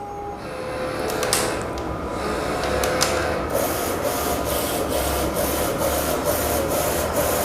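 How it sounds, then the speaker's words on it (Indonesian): A Zericho XP600 double-head DTF printer runs a calibration test page, its print carriage sliding back and forth in a steady rhythmic pattern of mechanical whirs and clicks, close and continuous. "printer akan langsung mencetak file kalibrasi tersebut"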